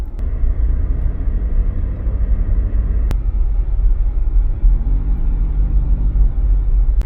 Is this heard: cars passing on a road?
yes